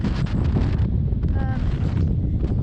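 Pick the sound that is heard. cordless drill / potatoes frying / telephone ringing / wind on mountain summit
wind on mountain summit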